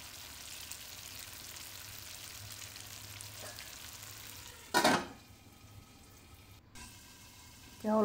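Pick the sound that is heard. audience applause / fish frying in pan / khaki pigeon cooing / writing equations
fish frying in pan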